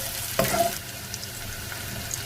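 Chili and salt fry in a pan for a tomato curry, a low continuous sizzle broken by one sharp scrape as the mixture is stirred near the start.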